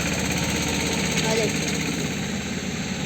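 A Mahindra tractor engine idles on a farm, a steady, even mid-pitched chug throughout the short stretch, with a voice speaking over it.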